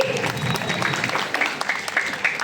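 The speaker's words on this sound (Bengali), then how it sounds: "একটু জোরে হাততালি" An audience at a stage drama claps in a dense patter of applause, while a voice talks over it throughout.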